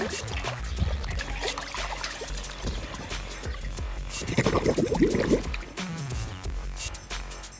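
Water runs and splashes while containers are filled at a village water tank, uneven trickling and pouring that swells into a louder gush midway, with faint voices and handling noises around it.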